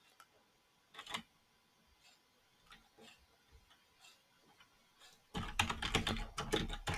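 Someone types on a computer keyboard while filling in an online visa form: sparse, quiet key clicks early on, then a dense, louder burst of rapid typing near the end.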